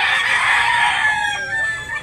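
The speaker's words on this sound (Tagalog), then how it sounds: "Napakalaking manok." A large rooster crows once, close and loud, its drawn-out call filling most of the moment alone before tailing off.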